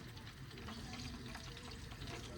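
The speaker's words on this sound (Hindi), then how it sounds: "घी की आवाज़ आ रही है" Ghee sizzling and frying in a large village wok, a steady close crackling hiss filling the whole stretch with no pauses and no voices.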